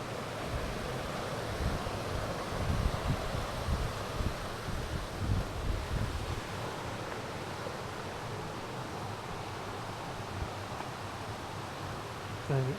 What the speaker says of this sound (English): Got a nice little waterfall, plunge pool.